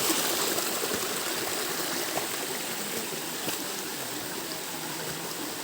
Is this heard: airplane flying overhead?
no